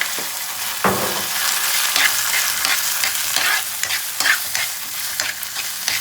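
Chopped onions fry in hot oil with ginger garlic paste in a pan for pav bhaji, giving a close, steady sizzle broken by scraping stirs and light clatter, with no voices.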